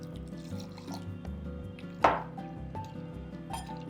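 Water poured into a bowl of finely ground raw mango mixture while making Konkani raw mango kadhi gives a single short splash midway, over a steady low kitchen hum.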